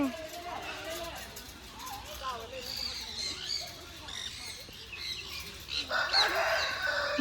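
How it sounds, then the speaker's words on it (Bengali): Chickens cluck and a rooster crows amid flapping wings, while people talk nearby throughout. "মুরগিও রয়েছে।"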